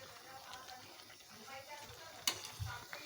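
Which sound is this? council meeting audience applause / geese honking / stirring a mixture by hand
stirring a mixture by hand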